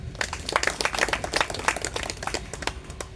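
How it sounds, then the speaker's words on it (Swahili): Applause from an audience at a village general meeting in Buigiri, many hands clapping in a dense, steady patter that stays fairly even in loudness, with no voices over it. "Tunaomba tuwapigie makofi."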